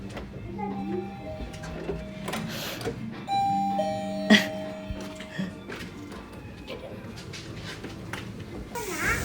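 A doorbell chimes with sustained ringing tones amid a busy household, with voices and clatter around it and one sharper ding near the middle.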